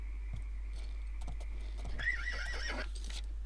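A horse in the video game Oblivion gives one wavering whinny midway, set against scattered clip-clopping hoofbeats and a steady low hum, with no talking.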